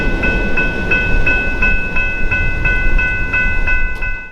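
A CPKC freight train rolls past with a mid-train DPU, its steady rumble cut by a regular clickety-clack of wheels over rail joints and a faint high tonal ring above.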